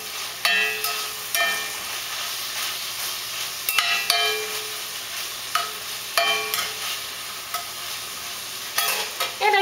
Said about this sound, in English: Let's give our bacon a stir while we're here.